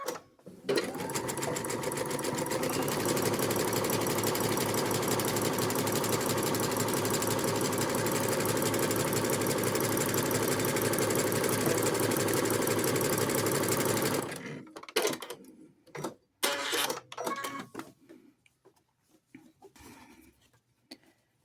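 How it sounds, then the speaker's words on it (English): A sewing machine runs a steady, continuous zigzag stitch over the raw edge of a doll skirt's fabric for about fourteen seconds, loud and close, then stops and leaves a few scattered handling clicks and light rustles. "Now I'm going to zigzag stitch over this raw edge."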